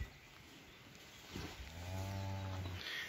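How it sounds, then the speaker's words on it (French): Cattle in a countryside field in northern France let out a long, loud moo up close after a quiet stretch, with faint rustling before it and no voices. "Les vaches sont venues tous me voir."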